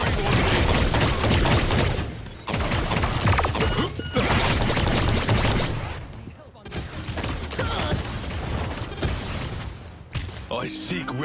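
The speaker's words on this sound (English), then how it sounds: "They're firing on me." Gunfire and weapon blasts from a Paladins shooter match rattle on almost continuously at close range, dense bursts with brief dips around two and six seconds, mixed with clanking mechanical game effects.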